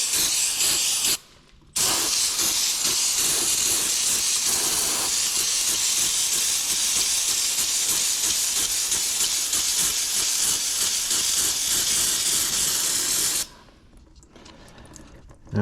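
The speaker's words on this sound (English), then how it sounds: "go ahead and start doing some higher spraying" Cleaner sprayed under a Nissan 300ZX Z31 in long, loud, hissing bursts, one brief pause early and a stop near the end, continuous spray noise dominating with no speech.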